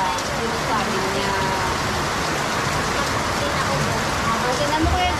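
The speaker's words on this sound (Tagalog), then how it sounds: "Lakas ng ulan." Heavy rain pours steadily outdoors on a Philippine street, a dense, loud, unbroken hiss throughout, with a voice faintly present beneath it.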